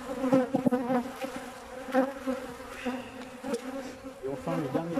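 Honeybees laden with rapeseed pollen buzzing at a hive, several insects droning close by in overlapping, wavering tones that swell and fade as they move around.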